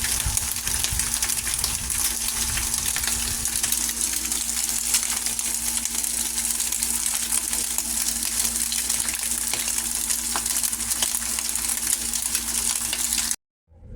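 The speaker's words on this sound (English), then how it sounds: "So we'll get this bacon all cooked up beautifully." Bacon fries in a pan with a loud, steady sizzle and crackle that runs without a break and then cuts off abruptly near the end.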